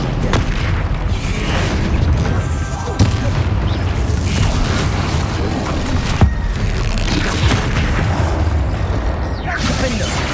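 Bombarda blasting spell in Hogwarts Legacy combat: repeated heavy booming explosions with dense rumbling low end, in a continuous chaotic battle mix over about ten seconds, with sharp impacts recurring amid other spell effects.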